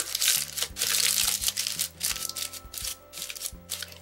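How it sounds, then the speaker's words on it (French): Paper being crumpled around a glass jar while making a paper lantern, a series of close crinkling and rustling bursts with brief pauses between handfuls. "Et là, on vient en quelque sorte le froisser."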